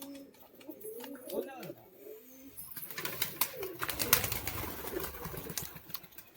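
Pigeons coo near a cage, with a few close, rolling calls early on, then a busier mix of cooing, fluttering and rustling as a person talks over them.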